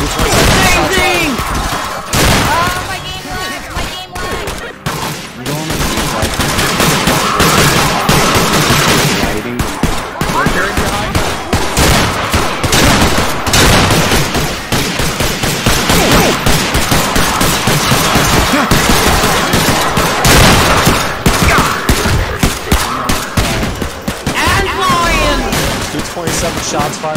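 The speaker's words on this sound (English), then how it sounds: "Shots fired off." Rapid, dense gunfire from the video game Atlas Uprising rattles almost nonstop in loud bursts, with heavy overlapping shots and crashes throughout.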